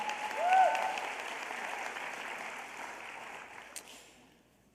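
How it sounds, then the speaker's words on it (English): An audience at a school district teacher of the year celebration gives a round of applause, a dense burst of clapping that peaks early, then tapers and thins over several seconds before a final sharp sound. "one more big round of applause for Miss Yetta Smith."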